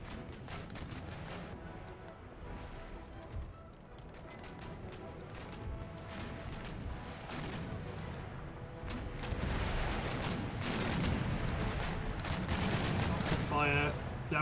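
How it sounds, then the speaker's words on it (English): A sailing warship in Empire Total War fires a broadside of round shot, a ragged string of cannon booms and crackling impacts that grows denser and louder toward the end, with someone talking over the battle. "just give another broadside of round shots"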